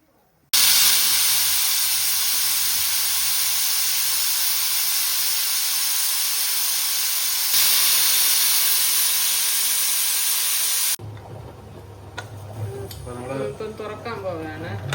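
Arrowroot tubers boil in a covered pot, giving off a loud, steady steam hiss that fills the scene, briefly surges partway through, then drops away to quieter bubbling as the lid comes off.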